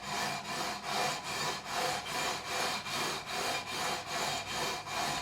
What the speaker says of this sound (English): Just going to give it another couple of strokes with the 400 grit.